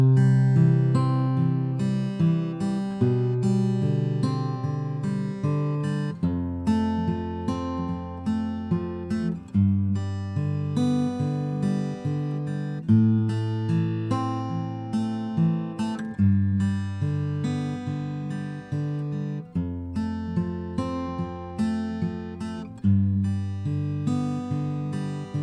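Fingerpicked acoustic guitar plays the chorus of a song, alternating plucked strings in a steady rolling pattern over each chord, clear and close with no voice.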